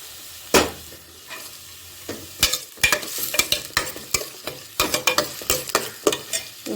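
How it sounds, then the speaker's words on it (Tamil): Two medium chopped onions sauté in a pan for Vellore thorny brinjal kuzhambu, with a soft sizzle broken by a run of sharp, irregular clatters and scrapes from stirring, close up. "வெங்காயம் போட்டு நல்லா வதக்கிக்கலாம்"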